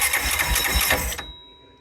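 A reassembled electric starter from a Yamaha Rhino 450 gets a brief bench test spin, a close, loud whirring buzz for about a second that cuts off abruptly.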